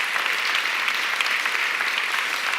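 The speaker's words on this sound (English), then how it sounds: "Give him a round of applause, because I can't wait to have Naveen on stage" An audience at the Mindvalley AI Summit 2023 applauds as a speaker is welcomed, producing dense, sustained clapping from many hands, evenly loud with no talking.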